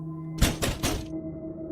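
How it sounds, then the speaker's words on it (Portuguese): Three heavy, closely spaced knocks land hard on a house door, loud and near in an otherwise still setting. "eu bati com força na porta."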